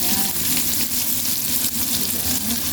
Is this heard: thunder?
no